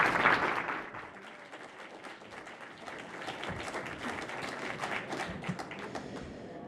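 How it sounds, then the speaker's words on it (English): A large conference audience bursts into applause to welcome a keynote speaker at a telecom summit, a steady crowd clapping that starts loud and continues evenly with scattered louder claps, no voices over it. "Let's give a big welcome and a big cheer for Commissioner Brendan Carr"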